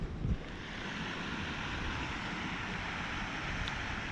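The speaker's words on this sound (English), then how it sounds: "There's our spillway." Water rushes steadily over a creek spillway beside a backcountry hiking trail, a continuous broadband roar with some wind buffeting the microphone, heard from a short distance with no voices.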